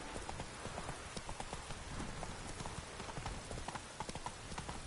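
Horse hooves clip-clopping in the video game The Witcher 3, a steady rhythmic stream of hoofbeats, close and continuous under a constant game ambience, with no talk.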